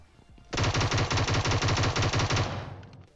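Rapid automatic gunfire in PUBG Mobile, a loud, close, continuous burst of evenly spaced shots lasting about two seconds before tailing off, with no talk over it.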